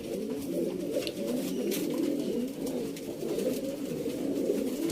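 Black-faced Teddy pigeons kept for sale in Sialkot, cooing in a steady, overlapping stream of soft low calls, fairly quiet and with no talking.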